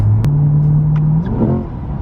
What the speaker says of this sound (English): When you pull on both paddles, you can just rev it out